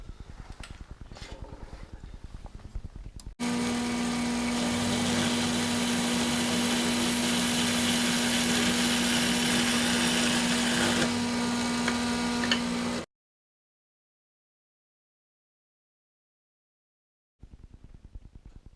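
A Kalamazoo bandsaw cuts 3/8 stock into one-foot sections, starting with a steady, loud whine and a constant blade hum for about ten seconds, then cutting off abruptly into silence before faint workshop noise returns.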